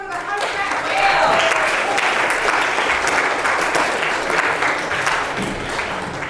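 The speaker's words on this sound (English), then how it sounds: "A big round of applause for the Hunchback Whale!" Middle school theater audience clapping after a student skit, a sustained full round of applause that swells early and then slowly tapers off.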